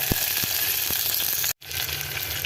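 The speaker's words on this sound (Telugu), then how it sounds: "పోపులన్నీ బాగా వేగిదాకా మనం కలుపుకుంటూ ఉండాలి" Spices such as dried red chillies, chana dal, coriander and curry leaves sizzle and crackle in hot oil at low volume for a tempering, a steady frying hiss broken by a few sharp stirring clicks.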